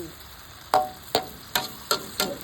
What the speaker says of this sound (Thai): เวลาผัดแล้วนะคะ